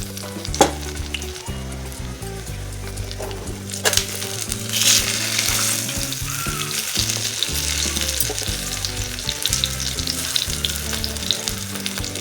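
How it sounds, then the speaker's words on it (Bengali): Cabbage kofta rolls frying in oil over low heat, a steady close sizzle and crackle running throughout with occasional stirring clinks and knocks, no talking. "আমি বাঁধাকপি রোলগুলি লো হিটে কড়া করে ভেজে নেব।"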